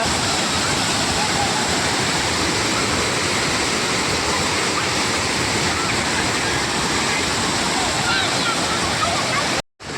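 Loud, continuous roar of floodwater rushing from a breached lake into a village, a dense broadband wash that stays steady throughout before cutting out abruptly at the end.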